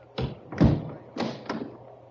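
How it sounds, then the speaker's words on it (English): A salon door is shut and locked indoors: four soft, close thuds and knocks land in uneven sequence, two paired and spaced apart, with no talk over them. "I shall lock the salon door."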